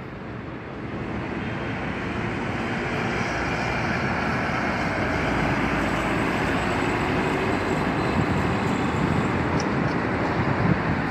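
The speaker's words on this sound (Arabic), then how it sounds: "محطة القطار" Steady broadband rumble of rail traffic at Marrakech railway station, a continuous wide wash of noise holding loud and even from start to finish with no voices.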